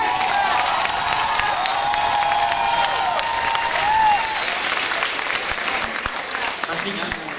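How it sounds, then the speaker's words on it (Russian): Audience clapping and cheering at a stage performance, loud sustained applause from a large crowd with whistles and shouts mixed in, fading slightly toward the end. "Хлопать придется много"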